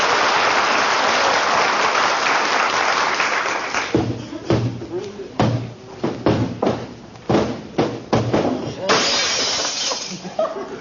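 A hall mirror slips from a hand and shatters, a loud crash of breaking glass followed by scattered tinkling and thuds of falling shards, with a brief voice in an old radio comedy scene.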